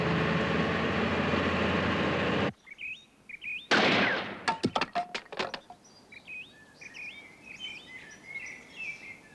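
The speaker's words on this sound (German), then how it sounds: "Das war ein herrlicher Schuss." In a cartoon hunting scene, loud sustained noise cuts off, then a sharp gunshot blast followed by a rapid cluster of sharp cracks like gunfire, with birds chirping faintly afterward.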